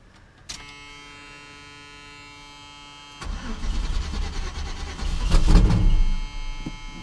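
Chevrolet C10 truck engine cranking after gasoline is poured into the carburetor: a sharp click, a steady starter whine, then a rough, louder cranking rumble that surges near the end.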